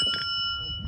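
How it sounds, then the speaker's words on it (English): A bicycle bell gives a quick bright ring at the start, its clear metallic tone hanging on through the rest of the short moment over faint background noise. "Him and his bell."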